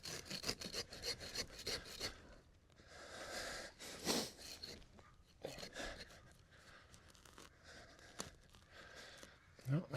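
Roots at the edge of a Japanese maple root ball are trimmed and tapered with scraping, rasping cuts, irregular and close, mixed with handling noises and breathy sounds at moderate loudness.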